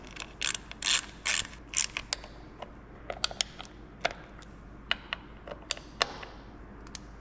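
Ratchet wrench clicking while T27 bolts on a Harley touring 117 VVT derby cover are swapped for quarter-20 Allen bolts, bursts of rapid pawl ratcheting then sparse single clicks, close and fairly quiet.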